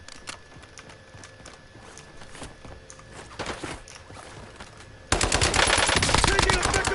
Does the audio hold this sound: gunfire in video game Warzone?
yes